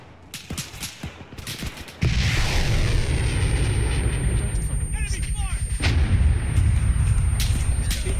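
An Arma 3 rocket launcher fires after scattered distant gunshots, then a loud blast booms and rumbles on for several seconds with gunfire continuing underneath.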